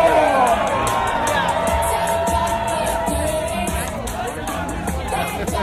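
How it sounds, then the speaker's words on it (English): Spectators at a dumpling eating contest cheer, whoop and shout in a lively, continuous crowd roar, with children's voices and babble mixed in and sounding close. "Cheer for them. Make some"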